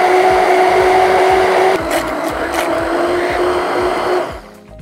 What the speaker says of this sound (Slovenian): Kadar blendamo pireje s paličnim mešalnikom